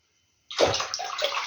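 Water pours into a pot while topping up a marinade for pickled zucchini: silence, then a sudden splashing stream that runs steadily and close for about a second.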